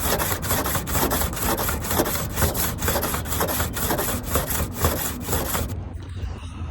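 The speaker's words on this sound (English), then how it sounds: "So I'm going to sand it down" Damaged bodywork on a crashed camper van being sanded down by hand, a loud rhythmic back-and-forth rasping of steady strokes, close up, stopping abruptly near the end.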